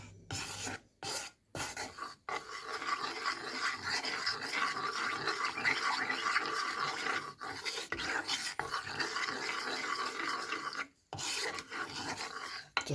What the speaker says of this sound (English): to the milk I'm going to add the flour. I'm going to give that a little stir in first